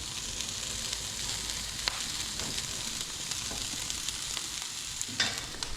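Sausage, broccoli and kale pasta sizzles steadily in a pan while being stirred through, a continuous close frying hiss with a few scraping clicks of the utensil against the pan, no talking.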